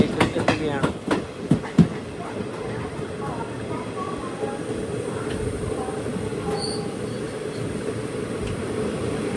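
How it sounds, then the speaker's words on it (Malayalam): A train pulling into Chengannur railway station, its steady rumble and rail noise continuing throughout, with a few sharp clanks near the start and faint high wheel squeals later. "ട്രെയിൻ ഇതാ ചെങ്ങന്നൂർ റെയിൽവേ സ്റ്റേഷനിലേക്ക് എത്തുകയാണ്."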